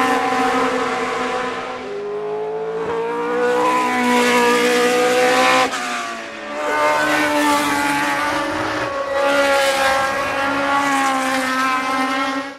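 A Formula 1 car with a Ford Cosworth DFV V8 screams past in sweeping high revs, rising and falling through gear changes in repeated loud waves, close and with no talk.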